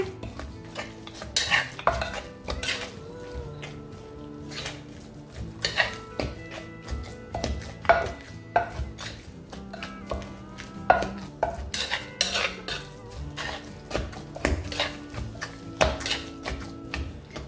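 Spoon scraping and clinking against a pot or bowl while stirring and mixing canned fish chili paste, irregular close taps and scrapes repeating throughout, with a faint sizzle underneath.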